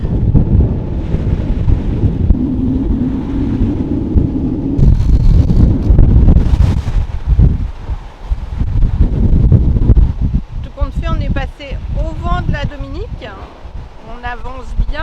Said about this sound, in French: il y a le vent qui rentre dans le canal entre la Dominique et la Martinique qui est souvent assez fort